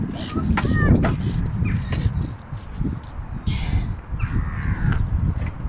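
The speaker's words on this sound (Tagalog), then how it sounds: "There's duck and there's a bird." Birds call with harsh, caw-like cries around James Hamilton Park in Scotland, where ducks are about, repeating over a busy outdoor background of footsteps while people talk nearby.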